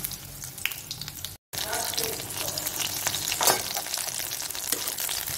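Pumpkin fritters (telebhaja) frying in hot oil, a steady close sizzle and crackle with a brief dropout partway, plus faint stirring or handling noises.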